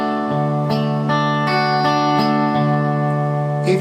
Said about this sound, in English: and then we'll pick through the chord as an arpeggio